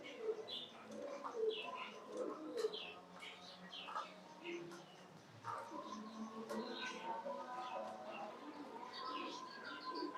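Fancy pigeons on a farm coo and call repeatedly, with scattered chirps from other birds layered throughout in a busy, moderately close chorus.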